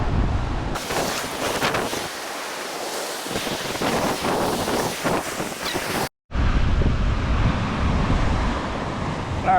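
Ocean waves breaking on a jungle shoreline, a continuous loud wash of surf with heavy wind buffeting the microphone and a brief cut partway through.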